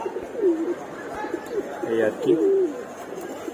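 Pigeons coo softly in a sky pigeon loft, low throaty calls rising and falling across the few seconds, with someone speaking briefly in the foreground and faint background rustle.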